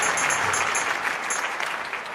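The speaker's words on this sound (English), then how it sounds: "Listen to the crowd's reaction. They really want to see this athlete take a medal." A stadium crowd applauds a weightlifter at the Olympic weightlifting event in the London 2012 video game, a steady wash of clapping and cheering that tapers slightly toward the end.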